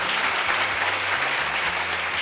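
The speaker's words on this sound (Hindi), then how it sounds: "तो उनके लिए भी जोरदार तालियां हो।" An audience of students claps for a guest at an academic event, a dense, even wash of applause that holds steady at full strength throughout.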